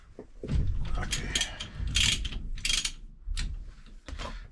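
A socket wrench ratchets loose the steering wheel nut on a 1966 Chevrolet classic truck, a 3/4 inch socket clicking in several quick close bursts separated by short pauses, loud and clear with no talk.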